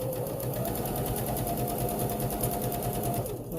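A sewing machine stitches a seam along the bottom of a fabric face mask, a close, rapid and continuous whirring chatter throughout.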